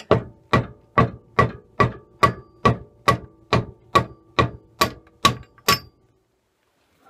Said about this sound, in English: brass rod in centre and tap with a mallet